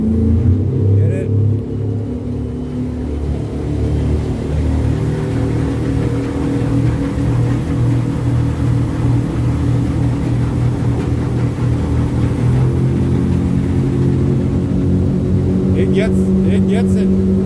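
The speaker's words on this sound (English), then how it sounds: "Now we're going to go wide open throttle." A 2020 Chevrolet Silverado 2500 truck accelerates at wide open throttle, a loud, steady low engine rumble building from inside the cab, with a voice speaking over it.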